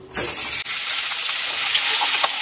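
Two fish heads dropped into hot mustard oil in a wok burst into a sudden loud, steady hissing sizzle that continues close up without voices.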